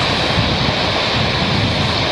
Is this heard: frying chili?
no